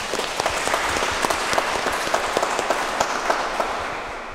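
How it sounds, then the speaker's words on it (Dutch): An audience claps inside a large church after a live concert, dense steady applause with a few sharp individual claps standing out, tapering off toward the end. "Geef een applaus voor jezelf."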